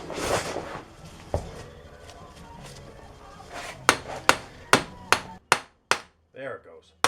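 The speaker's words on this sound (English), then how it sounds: "it usually takes a few hits with a hammer to get that snap ring to compress enough to slide the axle shaft in" A hammer strikes a Polaris Sportsman axle shaft, capped with a nut on its threads, to compress the snap ring and seat it. After some softer handling noise come about seven sharp, close metallic blows in a steady rhythm.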